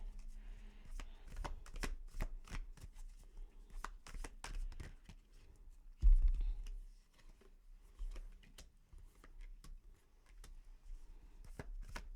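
Tarot cards being shuffled and drawn up close, with a long run of dense riffling clicks and flicks. There is one louder thump midway, and then the cards are handled more loosely.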